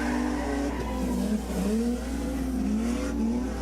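Drift car engine at a smoke-show drift event holding a steady rough drone with rising and falling revs, tire squeal mixed in, loud and continuous with no talk.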